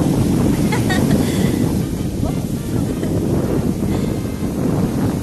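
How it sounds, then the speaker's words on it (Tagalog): Steady roar of wind and surf at the beach of Fort Ilocandia Resort, loud and continuous, with waves washing in and gusts buffeting the microphone. "Ayan yung dagat."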